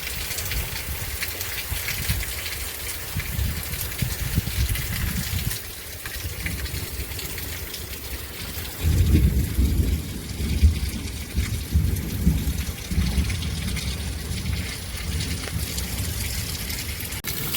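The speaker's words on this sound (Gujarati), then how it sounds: "માર વરસાદ પડી ગયો" Heavy rain falls outdoors over farm fields as a steady, dense roar of broadband noise, with a louder, rumbling surge partway through, and no one speaks.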